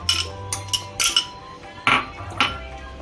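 Steel pots and utensils clink and clatter sharply in a kitchen as boiled chickpeas are added to sprouted mung and moth beans for salad, several separate knocks with short pauses between.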